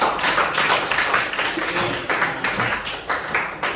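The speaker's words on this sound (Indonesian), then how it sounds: "kita tepuk tangan untuk diri kita sendiri" Children in a classroom clap their hands together for themselves, a dense, fairly close patter of many small hands with no talk over it.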